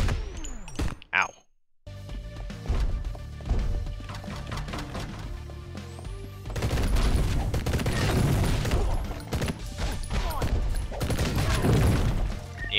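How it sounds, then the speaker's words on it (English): Booming blasts and crashing impacts fill a busy Mr. Shifty game soundscape, loud and dense after a brief quiet gap, with scattered clatter throughout. "Yeah, there's some explosions."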